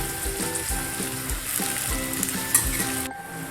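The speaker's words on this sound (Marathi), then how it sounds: "कांदा असा मस्त लालसर थोडा फ्राय करायचा आहे" Chopped onion frying in hot oil for chicken biryani: a steady, close sizzle with soft stirring scrapes throughout, then the sizzle cuts off sharply near the end.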